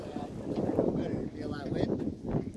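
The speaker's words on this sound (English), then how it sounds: "It's the north wind." Cold north wind buffets the microphone outdoors by icy water, a steady low rumbling roar with gusty swells throughout, while people talk faintly underneath.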